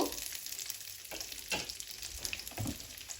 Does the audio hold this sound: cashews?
yes